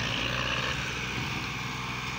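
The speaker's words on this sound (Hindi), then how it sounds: "ट्राले पे अभी ये ट्राला फंस चुका है तो तीन ट्रैक्टर लगे हुए हैं इसे निकालने के लिए" Three tractors roar together as they strain to haul a stuck trolley free at a rural jaggery-making site, a loud, continuous engine drone with no pauses.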